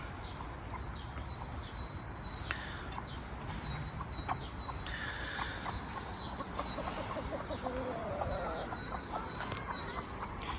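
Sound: broody hen clucking

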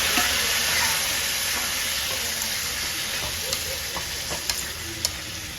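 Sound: tempering frying and being stirred in a pan

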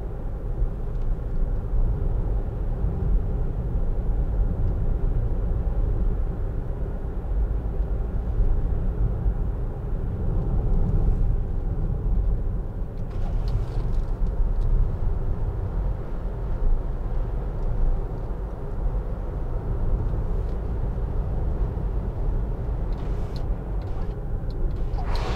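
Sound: wind noise inside 2013 Land Rover Freelander 2 SD4 driving

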